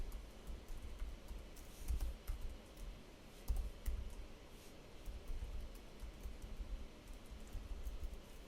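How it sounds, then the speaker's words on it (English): Computer keyboard typing and mouse clicks while data is entered into software, soft irregular clicks scattered over a faint steady hiss, quiet and close. "So just kind of clicking through, entering some data, and then I'm going to hit save."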